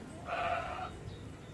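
A single short, wavering goat bleat, close and clear, over quiet background noise.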